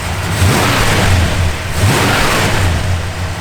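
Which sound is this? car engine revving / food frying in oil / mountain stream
car engine revving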